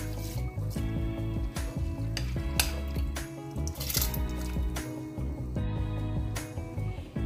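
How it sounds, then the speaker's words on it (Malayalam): Rice tipped into a pot of rolling boiling water with ghee for chicken biryani, giving close wet splashes, drips and squishy bubbling that shift irregularly over several seconds. "ഈ റൈസ് വേകാനുള്ള വെള്ളം നന്നായിട്ട് തിളച്ചു വന്നിട്ടുണ്ട്."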